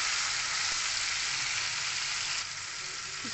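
Paneer sizzles steadily in hot oil in a pan, seasoned with salt and turmeric and fried until golden brown, a dense, even crackle that stays loud and unbroken throughout.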